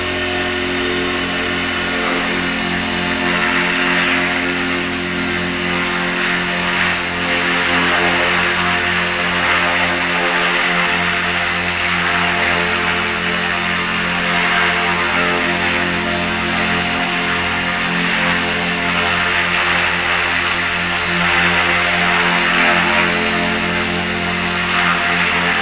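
A radio-controlled mini Cylon model aircraft in idle up mode gives a loud, continuous high-pitched motor and rotor whine for the whole stretch, steady with slight wavering, close by and with no talking.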